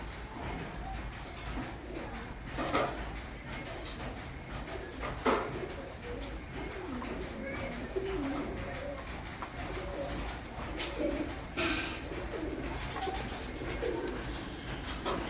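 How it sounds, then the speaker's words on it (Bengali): Female pigeons in a loft coo repeatedly close by, soft throaty calls over a rustling, busy background with occasional shuffling. "এই যে আমার পায়রা দেখুন"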